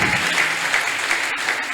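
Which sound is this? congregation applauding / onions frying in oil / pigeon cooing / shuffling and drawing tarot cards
congregation applauding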